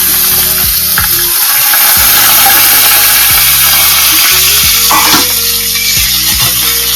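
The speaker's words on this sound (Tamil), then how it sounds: "பீர்க்கங்காய் தோலை நல்லா போட்டு ஒரு 5 நிமிஷம் நல்லா வதக்கணும்" Ridge gourd peel sautéing in a pan gives a loud, close sizzle. A spatula scrapes and knocks against the metal again and again.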